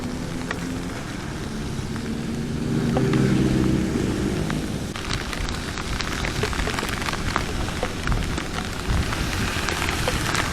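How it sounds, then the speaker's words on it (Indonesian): Heavy rain hammers down during a motorcycle ride, a dense hiss of drops with wind and engine rumble beneath, swelling louder in the middle and staying loud to the end. "Tapi hujannya luar biasa ya ini."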